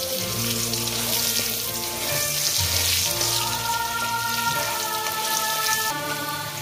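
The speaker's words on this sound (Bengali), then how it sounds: "আলুগুলো আবার ভাজা হয়ে গেছে।" Potatoes fry in hot oil for a Bengali lentil-fritter curry, a dense continuous crackling sizzle that holds steady throughout with a faint background hum.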